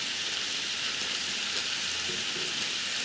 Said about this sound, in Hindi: इसे बढ़िया तरीके से फ्राई करेंगे।